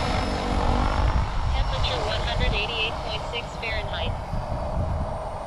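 SAB Goblin RAW Piuma 700 RC helicopter flying on 6S power at about 1880 RPM head speed, a steady whining rotor and motor drone with a wavering tone, near and loud throughout under broadband wind noise.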